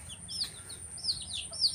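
Soft, scattered chirps and peeps from small young chickens in a cage, faint and close, with a steady low hum underneath.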